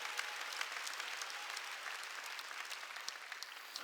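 A church congregation at a Sunday worship service applauds, a dense, steady patter of many hands clapping together throughout, close and moderately loud with no talk over it.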